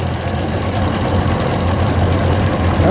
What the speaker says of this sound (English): It seems to be running great now. On all cylinders, it's idling.